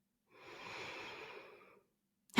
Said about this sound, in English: breathing out of your mouth